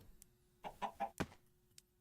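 A chicken in the Minecraft modpack StoneBlock 4 gives three or four quick clucks close by, then falls silent over a faint steady background hum.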